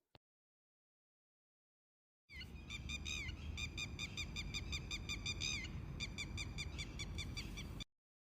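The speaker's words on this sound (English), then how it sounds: "lapwing," A lapwing gives a run of repeated shrill, wavering calls, loud and close, sounding continuously for about five seconds after a brief click, then stopping abruptly.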